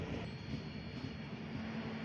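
A train rolls into Karwar railway station, giving a continuous low rumble of wheels on rails with a faint metallic squeal above it, heard from close by on the platform side.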